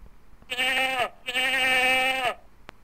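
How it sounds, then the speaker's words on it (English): Sheep bleating in the game Freddy Pharkas, Frontier Pharmacist, two long wavering bleats in quick succession, close and loud, with a brief pause between them and a short click afterward. "let's talk to the sheep"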